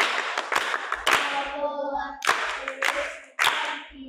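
Applause from an audience at a Swahili teaching session about boarding-school parenting, a few short bursts of clapping close by, interleaved with sustained tones from music or singing.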